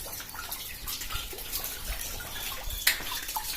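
Water runs steadily in the yard of a century-old house near a well, a soft continuous wash with a few louder splashes and no talk.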